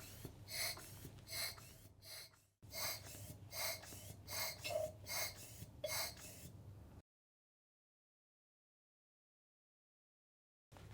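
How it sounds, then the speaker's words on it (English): Deep breaths taken through a respirator during a qualitative face fit test, a regular series of loud, close inhales and exhales, a brief pause, more breaths, then near silence. "So if you could take some deeper breaths for me,"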